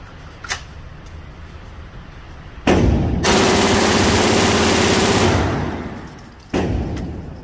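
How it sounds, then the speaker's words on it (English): A 9mm Scorpion Evo machine gun fires a sustained full-auto burst on an outdoor range, a loud continuous roar of rapid shots lasting a few seconds, framed by a couple of short isolated bangs before and after. "John Sisley with the JEC III shooting our Scorpion Evo."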